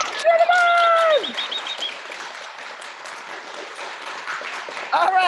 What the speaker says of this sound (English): Thumbs up, and the crowd goes wild. Cheer them on.